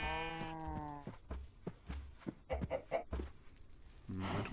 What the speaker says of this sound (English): I don't really want that sheep